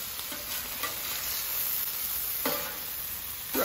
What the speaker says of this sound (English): all they're doing is cooking in that beef fat as the beef fat comes down